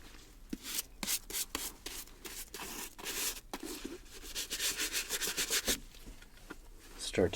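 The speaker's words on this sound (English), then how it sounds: "start to attack with a medium all-purpose bristle brush here" Medium bristle brush scrubbing a patent-leather Jordan 11 sneaker up close, quick repeated rasping strokes in an uneven rhythm, soft and intimate with no talking.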